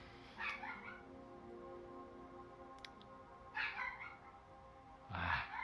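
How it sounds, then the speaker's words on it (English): A dog in Skyrim barks in three short, separate bursts, faint and somewhat distant against a quiet background hum. "I'm really curious of what he's barking at, because there's nothing out there."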